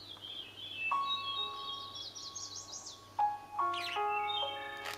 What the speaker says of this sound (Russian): Там птички поют.